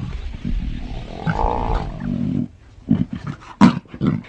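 An African lion's deep, rumbling roar and growls, loud and close, in several throaty bursts with short breaks between them.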